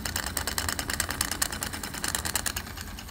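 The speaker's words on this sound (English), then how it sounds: "Still going through its warming stage, you can tell by the exhaust." Wilesco D305 toy steam fire engine warming up, giving off a fast, steady, close chuffing rattle of steam exhaust that stays constant and fairly loud.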